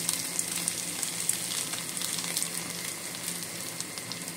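Two eggs frying in a pan, a steady close sizzle with faint crackles and pops throughout.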